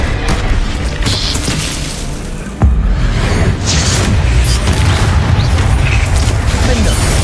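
Spell blasts and magical impacts rumble and boom in Hogwarts Legacy combat, loud and continuous, with a sharp heavy hit partway through and crackling bursts throughout.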